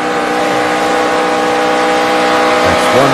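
NASCAR race car at Charlotte Motor Speedway during the Dollar General 300, roaring loud and close as it goes into turn one, a sustained high engine drone with a shifting pitch near the end.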